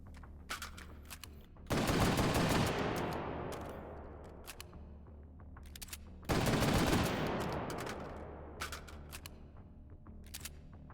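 Rapid-fire shotgun shots in the VR shooter H3VR, two loud, booming blasts with long decaying tails, separated by several seconds, plus faint clicks and handling noises between them and no talking.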